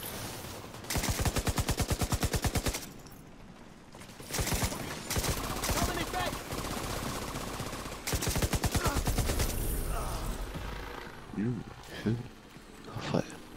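A deployed turret in The Division 2 fires rapid automatic bursts, long rattling strings of shots with short pauses between volleys, while someone speaks over the gunfire.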